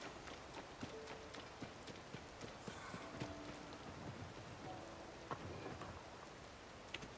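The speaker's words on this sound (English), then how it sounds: "we have to wait till it stops raining" Rain falls steadily in Zelda: Tears of the Kingdom, a soft constant patter mixed with rhythmic clip-clop footsteps, like a horse or running, and scattered game effects, all fairly faint with no talking.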